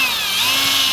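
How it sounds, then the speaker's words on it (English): A power drill with a 1/8 inch bit bores through the metal of an Andersen 400 Series storm door, a steady, loud high whine held for about a second with no talk over it. "I'm going to start out with an 1/8 inch drill bit, and then I can step up to the bigger sizes here"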